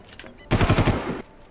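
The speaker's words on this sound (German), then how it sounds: "SMG." A short, loud burst of SMG fire from the video game Far Cry, about 0.7 seconds of rapid automatic shots close up, with quiet game ambience before and after.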